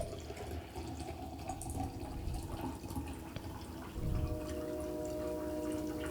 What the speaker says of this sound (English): Probably going to pour some more chaga tea.